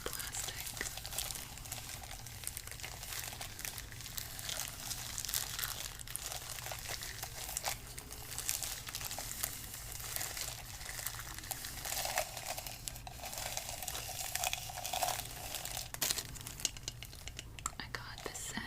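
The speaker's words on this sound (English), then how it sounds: "But this is still lovingly wrapped in the original plastic." Original plastic wrapping around a vintage thrift-store glassware set, crinkled and rustled in close, continuous handling for the whole stretch, with soft whispered speech faintly underneath.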